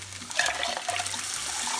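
Water pours into a pot for Mexican rice, a close, splashy gush that runs steadily for under two seconds.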